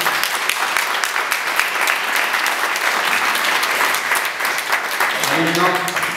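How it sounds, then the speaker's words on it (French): A town presentation audience gives sustained applause, dense and loud throughout, with voices talking over the clapping near the end. "On peut les applaudir."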